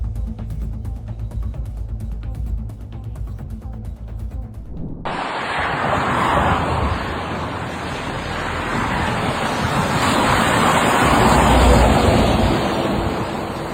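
Violent floodwater rushing in a loud, continuous roar with heavy wind buffeting, beginning after a quieter opening of engine-like hum and swelling toward the end.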